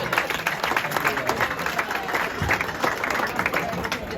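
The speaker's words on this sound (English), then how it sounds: "And another round of applause for our fantastic lads." Steady applause from a crowd for the Rotherham Titans rugby side at a clubhouse gathering, dense clapping filling the whole stretch with some voices and cheers mixed in.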